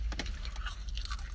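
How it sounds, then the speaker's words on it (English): Someone chews a crisp chip close to the mic, with a quick series of soft, crunchy bites and mouth sounds and no talking. "You're still chewing on the same chip from the beginning?"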